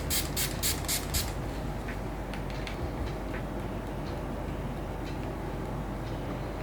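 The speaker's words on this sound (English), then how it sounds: "I'm going to use my Swiss Beauty makeup fixer, and the spray is a little bit harsh" Several quick, sharp sprays of Swiss Beauty makeup fixer setting spray mist in a burst at the start, followed by a few fainter puffs against a quiet background.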